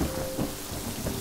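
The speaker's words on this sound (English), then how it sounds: "Thunder is quite noisy." In the video game Yonder: The Cloud Catcher Chronicles, a thunderstorm rumbles over the grasslands, with deep rolling thunder beneath steady rain, loud and close throughout.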